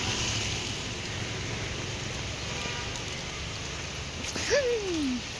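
Heavy monsoon rain pours steadily near a temple, a dense, unbroken hiss at even loudness throughout, with a brief descending whistle-like tone near the end.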